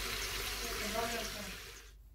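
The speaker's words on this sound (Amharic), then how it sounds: "ከዛ እንዲህ ከጠበስ ነው በኋላ ውሃ እንጨምራለን።" Water pours into a pan of fried chicken for Ethiopian chicken soup, a steady close splashing rush that cuts off abruptly just before the end.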